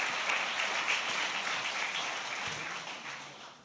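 Warm, continuous applause from a community meeting on racial equity honors elected officials, a steady wash of many hands that tapers off gradually toward the end.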